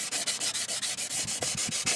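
Rapid back-and-forth sanding with 120 grit abrasive on an engine part for a Mk2 Supra build, an even rhythmic scratching of about eight strokes per second, close and steady.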